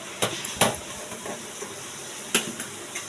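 Caramel for mango pudding is stirred in a pan: a few sharp scrapes and knocks of the spoon against the metal land irregularly over a faint sizzle, fairly close and alone.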